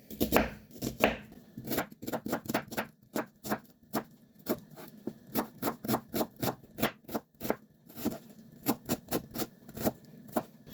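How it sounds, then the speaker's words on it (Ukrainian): Rapid, steady knife chops dicing an onion into cubes on a cutting board, dozens of crisp close knocks in quick runs with brief pauses, no talking. "Нарізаємо кубиком"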